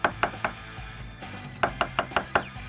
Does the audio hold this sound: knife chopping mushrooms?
yes